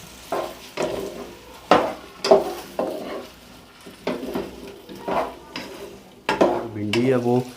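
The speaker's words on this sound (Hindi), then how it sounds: "भिंडी है वो अच्छे से यहाँ पे आप देख सकते हैं फ्राई हो चुकी है।" Okra (bhindi) frying in a kadai, with intermittent stirring scrapes and clinks of a spatula against the pan over a low sizzle, in bursts of varying loudness, close up, and a voice briefly at the end.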